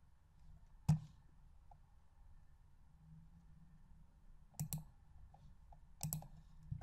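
A computer mouse is clicked a few times, with one sharp single click and then two quick double clicks, faint and close against a quiet hum with no talk.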